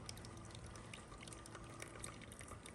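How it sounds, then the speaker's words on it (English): Rinse water trickling and dripping off a metal roof after spraying, a faint, steady wash of liquid with small scattered drips. "you can see I got just a little bit of a trickle there after spraying this"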